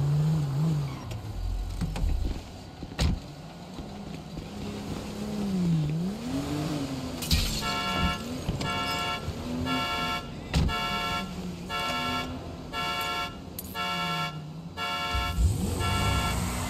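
Car driving in GTA 5: a steady engine hum with rising and falling pitch as the vehicle moves, joined midway by a repeating electronic alarm-like tone, fairly loud throughout.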